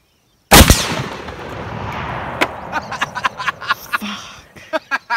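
A full metal jacket round slams into a 2-inch mild steel plate with one loud, close gunshot and impact crack, followed by a ringing, rumbling decay and a series of sharp clicks and knocks.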